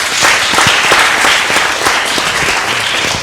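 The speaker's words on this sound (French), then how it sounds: "Je voudrais maintenant qu'on applaudisse pour monsieur Jacob Sou." Loud, dense crowd applause in a live talk-show audience for guest Jacob Sou, a continuous wash of many hands clapping close by without a break.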